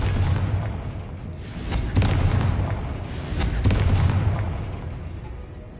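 In Hogwarts Legacy, the Confringo fire spell sets off a few deep, booming explosions that swell and fade in waves, each carrying a rumbling low-end roar.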